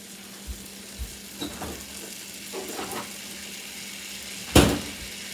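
Hamburger drippings and butter sizzle softly in a pan for country gravy, a low, steady hiss with a few light knocks of a utensil and one sharper clatter near the end.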